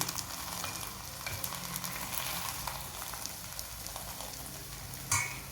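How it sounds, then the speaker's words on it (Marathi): A methi matar paratha cooks with a little oil on a griddle over low gas, a faint, even crackling sizzle with one brief sharper clink near the end. "छान मंद गॅसवर आपल्याला हा पराठा शेकून घ्यायचा आहे. त्याने थोडं तेल सोडत आहे मी."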